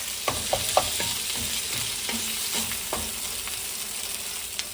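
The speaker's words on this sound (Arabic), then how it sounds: "نخلي هنا 3 ملاعق زيت، ونذب هذا البصل اللي سويناه شرائح، ونذب الفلفل الاخضر والاحمر اللي سويناه شرائح، وشويه نقلي" Sliced onion with green and red pepper strips sizzles in about three spoons of hot oil, a steady close fry broken by repeated sharp clicks and scrapes of stirring.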